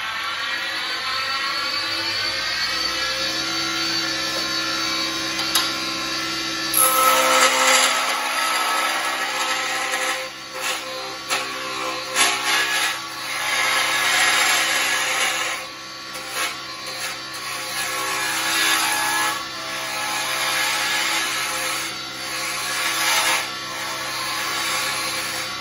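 Wood lathe spinning a small driftwood razor handle at about 3,000 RPM, a steady whirring hum with a tool scraping and rubbing intermittently against the wood, close and fairly loud.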